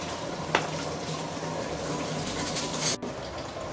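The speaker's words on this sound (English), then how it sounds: "my Fuzhuk has been simmering under medium-low heat for the past close to 30 minutes" Braised fuzhuk (dried bean curd) simmering in broth over medium-low heat gives a steady, soft bubbling hiss, with a brief click near the start and a short break in the sound near the end.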